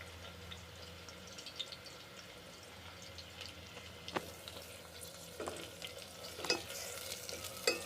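Onions fry gently over low heat until light brown, a faint soft sizzle with occasional stirring clinks and scrapes in the pan, quiet and close.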